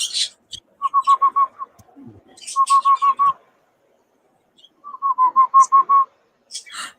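A pet bird gives three bursts of rapid whistled notes, each a run of five or six clear pips, separated by pauses and mixed with a few brief higher chirps, close and alone.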